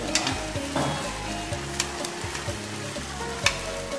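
Rice noodles with seafood sizzle and crackle as they are stir-fried in a pan, with steady frying noise and repeated scraping and tossing clatter of a utensil, close up.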